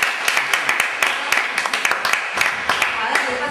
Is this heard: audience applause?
yes